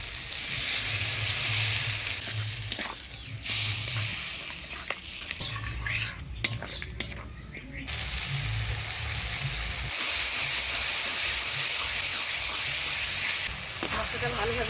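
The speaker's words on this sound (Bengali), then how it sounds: "এবার অল্প জল দিয়ে দিব মশলাটা ভালোভাবে কষানোর" Ground spices for a Bengali bhola fish curry fry in a pan with a splash of water, a constant close sizzle broken by scraping stirs and occasional clinks of a spoon against the pan.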